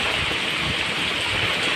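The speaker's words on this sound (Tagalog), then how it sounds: "Lumalakas na guys ang ulan." Dense, steady hiss of heavy typhoon rain pouring down in the Bicol Region, Philippines, a constant wash of noise with no voices.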